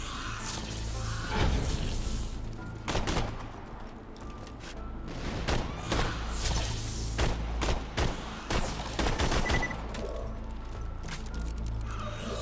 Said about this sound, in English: No, grenade over here, grenade.